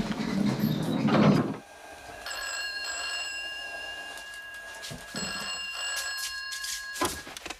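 A telephone rings indoors in repeated electronic trills across several seconds, moderately loud and close, with a sliding door or other room noises before and between the rings.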